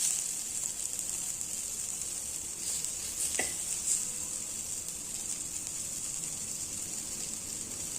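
Onion slices sautéing in a pan for a Maharashtrian spicy aamti, a steady bright sizzle throughout with one brief stir or scrape partway, close and fairly faint, no talking.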